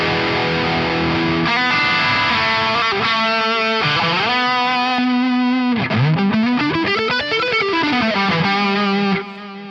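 A heavily distorted electric guitar plays a metal solo through a high-gain ENGL amp profile, with fast runs, sustained bends and wide pitch sweeps, loud, close and continuous until the final note cuts off.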